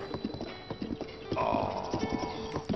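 Horse hooves clip-clopping in Zelda: Breath of the Wild, a dense run of hoof strikes with a louder snorting or whinnying swell partway through, the rider's mount close and steady throughout.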